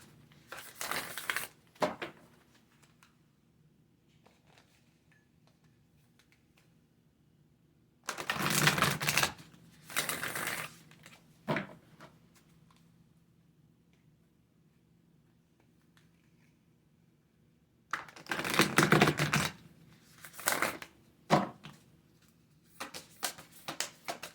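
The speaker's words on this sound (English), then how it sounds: "I'm going to pull some oracle cards." Oracle cards are shuffled in three short bursts of crisp, close riffling and flicking, separated by long stretches of near silence.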